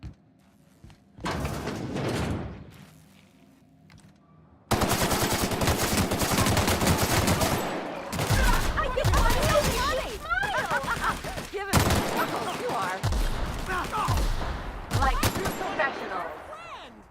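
Gunfire in The Outer Worlds: Spacer's Choice Edition, dense rapid bursts of shots and impacts running almost continuously, loud and close, with a short pause and brief speech near the start.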